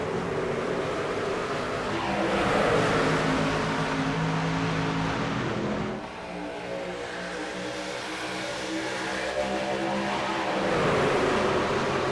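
Race trucks roar around the Kansas oval during an AREA Truck Series playoff race, a dense, continuous engine drone that swells and dips slightly as the pack passes, with no talking.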